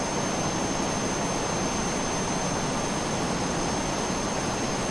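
Steady, loud roar of a Reno race plane engine in a flight simulator, a constant droning hum with a thin high whine held evenly throughout.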